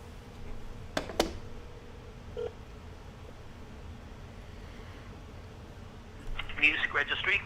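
A few brief electronic tones from a phone keypad being dialed stand out faintly against quiet room noise, followed near the end by a short burst of louder ringing or line sound.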